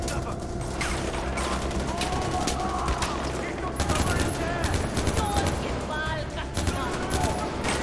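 Dense, sustained gunfire fills a Far Cry 4 firefight, with rapid automatic bursts and overlapping shots continuing steadily with no letup.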